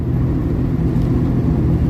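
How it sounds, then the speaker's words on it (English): A truck idling at a truck stop, a steady low engine rumble that stays even and continuous, close and alone with no talk. "I just let the truck run"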